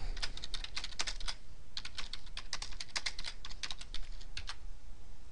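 Clicking keystrokes on a computer keyboard during Office 2010 work, quick irregular bursts of taps with short pauses between, close and moderately quiet over a faint background hum, no speech.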